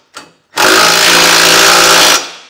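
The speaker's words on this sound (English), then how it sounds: "come back with a 3/4 inch socket and snug it all down" A power tool with a 3/4 inch socket snugs down trailer hitch hardware on a 2022 Subaru Crosstrek: after a short blip comes a loud, steady whirring burst of about a second and a half that then winds down.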